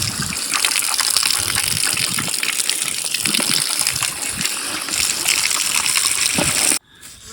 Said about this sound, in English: I'll just hose them down, and they don't mind it at all